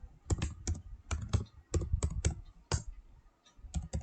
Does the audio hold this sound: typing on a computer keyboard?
yes